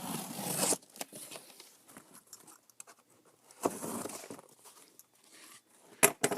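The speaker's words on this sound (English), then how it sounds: "I'll cut this part off. And I'll fold this down." Cardboard for a custom LEGO shipping box gets cut and folded, giving scraping rasps, crinkles and soft creasing taps that come in separate bursts with quiet gaps between them. The sounds are close, with no talking.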